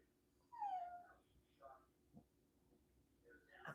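A dog whimpers and yips in short, high whines, the first clear and fairly close, then fainter scattered whimpers over a quiet indoor background with a low steady hum.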